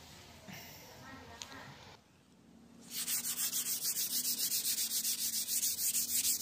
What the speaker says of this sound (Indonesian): kita usap lagi pakai busa atau spon agar bekas kuasnya tidak kelihatan